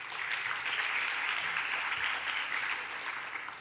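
Steady applause from an audience at a brainstorming event, honoring translators, interns and volunteers; dense, even clapping held at a constant level throughout without breaks.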